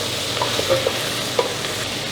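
Pumpkin soup is stirred in a pot, a steady close wash of simmering sizzle with a few soft scrapes and knocks of the spoon against the pot, and no talking.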